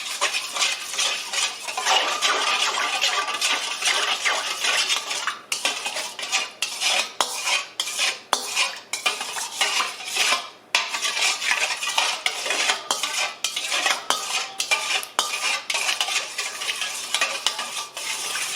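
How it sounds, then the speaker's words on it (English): A spoon whisking yeast and white sugar together in a bowl, giving quick, close, repeated scraping and clinking strokes with brief pauses, no talking. "I'll make sure it's mixed good in there"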